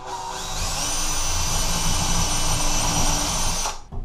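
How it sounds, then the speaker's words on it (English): A handheld power drill pre-drills a hole in a wall for a closet rod bracket, its loud motor whining steadily and close for several seconds before cutting off abruptly. "Then we can pre-drill the bottom."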